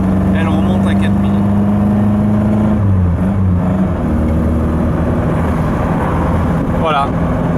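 A Triumph Spitfire Mk3 engine heard from inside the car, droning steadily at first, then its pitch shifts and climbs after the overdrive disengages. A voice talks over the engine.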